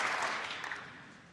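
Applause from a snooker audience at the 2017 Welsh Open semi-final for Stuart Bingham's century break tails off, the scattered clapping fading quietly toward silence.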